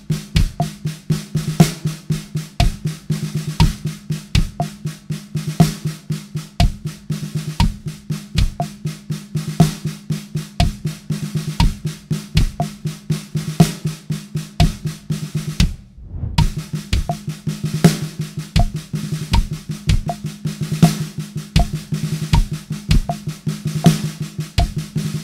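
A snare drum plays a steady roll beat built on quick double strokes, loud and close and continuous, with a brief pause in the middle before the pattern resumes.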